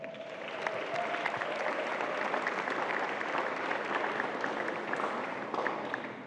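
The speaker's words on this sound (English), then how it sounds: "A round of applause for Patrick Stevenson." An audience at a youth forum claps steadily in a sustained round of applause, an even, dense patter of many hands at moderate level from start to finish.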